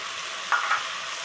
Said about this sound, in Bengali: এবার 2টি আলুর সাথে আর চাল ডাল সব কিছু একসাথে আমি ভালোভাবে একটু কষিয়ে নিব।